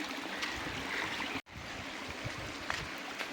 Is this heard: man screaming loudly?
no